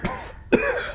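A man coughs twice, a short cough then a stronger harsh one, close and clear over a faint ambient background.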